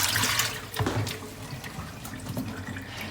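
Almonds are rinsed under a running tap in a home kitchen in Greece, a steady close splash of water falling into a sink that continues throughout.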